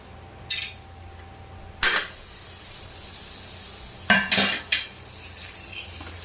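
Cauliflower and potato curry with tomato simmers in ghee, giving a steady low sizzle broken by several sharp clinks and scrapes of a spoon stirring against the pan.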